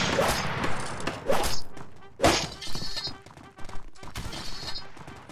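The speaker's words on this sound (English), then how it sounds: "I'm about to shoot someone!" Gunfire in the Blood & Iron war game: a few sharp, loud shots spaced a second or so apart, each with a brief crack and echoing tail, among lighter thuds and clatter.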